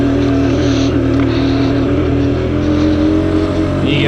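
A Sherco TY125 trials motorcycle engine held at high revs in first gear, a loud, close, steady buzzing drone with a slight pitch rise near the end and no talk.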